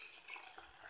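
Water is poured onto flattened rice (aval) in a home kitchen, a steady near splashing stream that runs continuously for about a second with slight surges, heard alone without talk.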